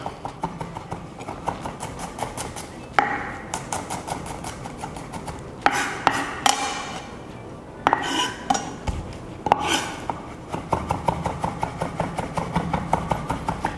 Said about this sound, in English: So you're going to chop garlic into some really fine pieces